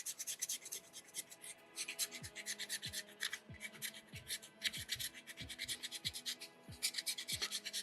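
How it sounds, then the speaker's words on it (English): A hand rasp scrapes a soapstone skull carving in rapid, gritty strokes, close and steady, each pass followed by a faint low knock from the work shifting. "Every once in a while, I just make sure I give my rasp a good cleaning."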